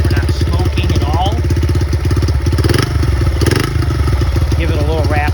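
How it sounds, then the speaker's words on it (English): A 1973 Honda XR75 motorcycle engine idles steadily up close after a first-kick start, with a loud, even, rapid putter that continues throughout while someone talks over it. "The bike fires up on the first kick."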